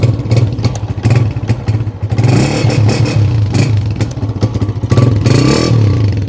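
A 125 motorcycle engine revs loudly and close up, with uneven throttle surges and mechanical clatter running the whole time and no talking.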